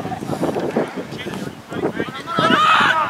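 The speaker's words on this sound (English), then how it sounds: "That wind is killing it." Wind buffets the microphone outdoors at an amateur sports match, with low rumbling gusts running under people talking nearby and a louder gust toward the end.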